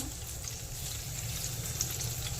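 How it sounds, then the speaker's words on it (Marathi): Bombay duck (bombil) coated in green masala frying in a pan over a medium flame, a steady soft sizzle and crackle that stays even throughout with no talking. "फ्राय करून घेऊया गॅस मिडियम आचेवर ठेवायचं आहे पाच मिनिट"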